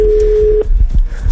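On a Hungarian radio morning show, a telephone line being dialed to call a listener gives a steady, clear tone for over half a second, followed by brief, loud line noises.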